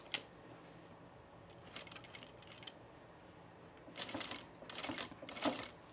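A home sewing machine turned slowly by its handwheel while stitching a pin-tucked top, giving faint clicks and soft mechanical ticking that come in short bursts, quiet near the start and louder clusters toward the end.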